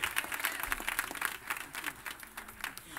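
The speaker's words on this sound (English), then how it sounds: "And for our First Lady Pamela Wooden, let's clap our hands for them" Audience at a church Christmas gala claps hands together, with scattered individual claps forming a moderate, uneven burst under light crowd murmur and occasional voices.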